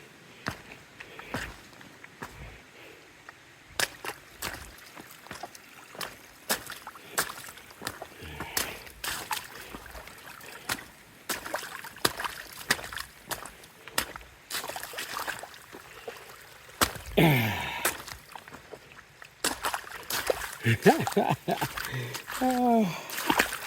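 Hiker wading a calf-deep river crossing on the Appalachian Trail, irregular splashing steps and sloshing water close by, with someone talking over much of it.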